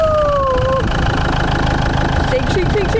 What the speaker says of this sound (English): it's the moment of truth. Turn the engine.